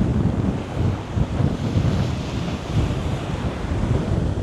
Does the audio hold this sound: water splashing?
yes